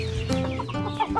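Shamo hens cluck in short bursts on a chicken farm over a low background hum, with a few sharp chick peeps scattered through the brief moment.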